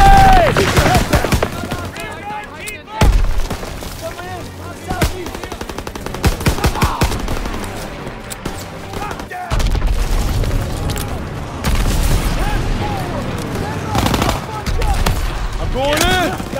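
Dense WW2-style battle gunfire: rapid machine-gun bursts and rifle shots crackle near and far with occasional booms, under continuous shouted soldier commands throughout.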